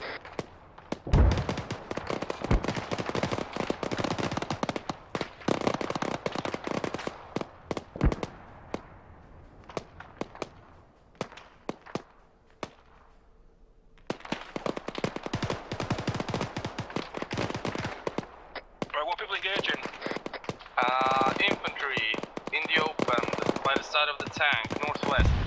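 Bursts of automatic rifle fire and single shots crack through an Arma 3 firefight, dense rapid volleys that pause briefly midway before resuming hard and close, with faint distant shots and some radio-like chatter near the end.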